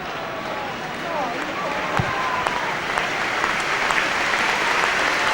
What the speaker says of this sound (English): And Kanago is getting a huge hand from this crowd as he comes off to be replaced by Richard Naylor.